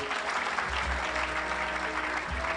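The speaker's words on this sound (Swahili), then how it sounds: "Pigeni Madam makofi mazuri." Loud, dense audience applause rolls continuously at a political gathering as a woman leader comes up to speak, many hands clapping together without pause.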